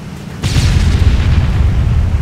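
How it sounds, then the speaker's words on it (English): A kart blows up in Arma 3 with a sudden, loud, deep boom that rolls on as a heavy rumbling blast, close by and without any talk over it. "You can hear explosions off right next to me as a large kart explosion has happened."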